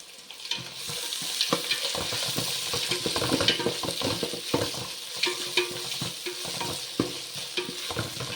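Onions with ginger garlic paste sautéing in a pan for beet rice, a steady close sizzle with repeated scraping stirs throughout, no talk.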